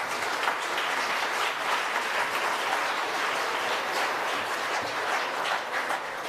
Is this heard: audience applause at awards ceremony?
yes